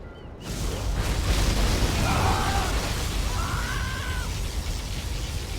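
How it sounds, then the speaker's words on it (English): Video game particle cannon fires with a sudden burst, then a loud sustained rumbling explosion roar that slowly fades, with two short warbling electronic tones partway through. "Releasing particle cannon."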